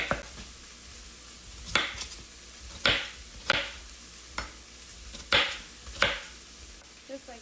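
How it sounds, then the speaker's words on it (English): Potatoes being cut on a board for chicken fricassee: about eight firm knife chops, close and distinct, spaced unevenly about a second apart, with quiet background noise between strokes. "so we're gonna cut up the potato"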